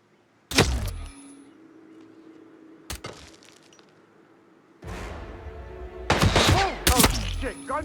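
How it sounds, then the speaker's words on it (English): Gunfire in Hitman 3 at Thornbridge Manor, Dartmoor: a sharp, loud gunshot crack near the start, another abrupt crack a few seconds later, then a flurry of impacts and rapid shots, with voices toward the end. "Oh, shit, gunshot!"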